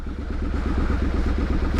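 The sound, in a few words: Triumph Street Scrambler motorcycle engine in town centre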